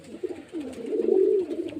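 Caged pigeons cooing in a soft, rolling burst close by, a low throaty warble rising and falling over nearly two seconds in a quiet room.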